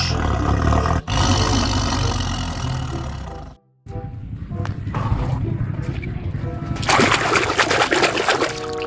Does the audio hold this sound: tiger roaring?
yes